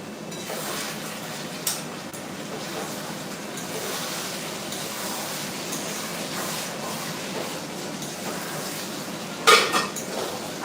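Pots and utensils clatter in a kitchen while meat is cooked, with a steady sizzling wash underneath and sparse metallic clinks, one sharp loud clang near the end.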